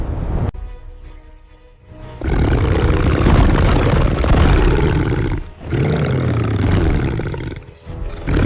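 A giant ape's deep, thunderous roars on Skull Island during a storm, loud and close, sustained for several seconds with brief pauses between rumbling bellows and growls.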